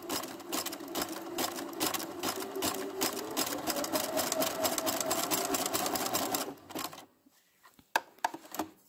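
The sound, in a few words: sewing machine stitching zigzag along fabric edge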